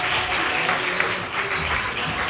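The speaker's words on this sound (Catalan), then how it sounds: "Un aplaudiment, sisplau, per aquest senyor." An audience at a magic show breaks into hearty applause, a dense, continuous burst of clapping from a nearby crowd with no speech over it.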